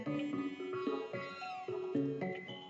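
In Chrono Trigger, a cat's meow is heard amid the game's melodic background music, a soft short mew layered under sustained tones on a ship, no talk present.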